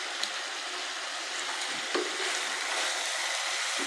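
Potatoes and cauliflower for aloo gobhi fry in a pan over a moderate flame, giving a steady close sizzle broken by occasional scraping stirs, with no voices.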